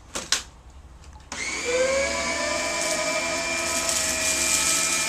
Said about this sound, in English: And here's how a little Dyson works.